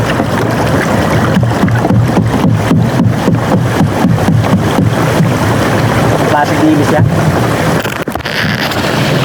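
A boat moving across open water with constant wind and splashing, voices talking over the steady rush.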